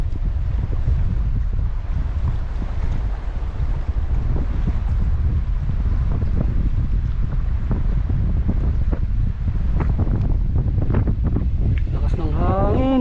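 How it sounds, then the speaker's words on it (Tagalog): Strong wind buffets the microphone in a constant heavy rumble, with splashing water and people talking underneath. "Lakas ng hangin"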